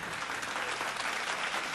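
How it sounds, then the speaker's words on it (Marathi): An audience at a Mangala Gaur festival event in Mumbai claps hard, with dense and steady applause for the whole stretch and no voices over it. "जोरदार टाळ्या माझ्यासाठी एकदा झाल्या पाहिजेत"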